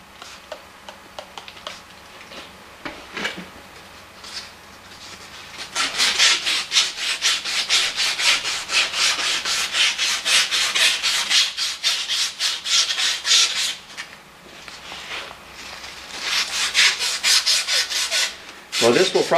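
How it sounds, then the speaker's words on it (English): Barrel pump being sanded by hand with 320 wet sandpaper and WD-40, steady back-and-forth rasping strokes, close and loud, with a quieter stretch before the rapid rubbing begins and a brief pause near the end. "I've got some 320 wet sandpaper and some WD-40."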